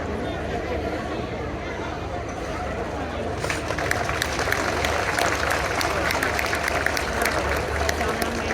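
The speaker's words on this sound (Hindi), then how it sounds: "तालियां बजती रहनी चाहिए दोस्तों" Crowd applause rises at the Reh festival opening ceremony in Anini, Arunachal Pradesh, a dense outdoor patter of many hands that swells louder and brighter partway through.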